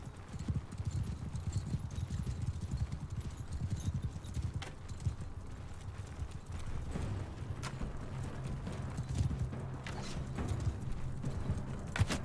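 Horse hooves clip-clop in a steady rapid gallop in the video game Mount & Blade II, a continuous close drumming rhythm running for the whole stretch with occasional sharper knocks and no speech.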